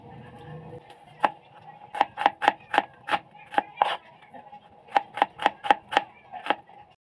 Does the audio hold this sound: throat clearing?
no